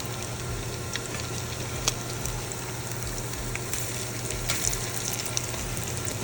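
Flipped patties frying in a hot pan, a loud, steady close sizzle with faint crackles throughout.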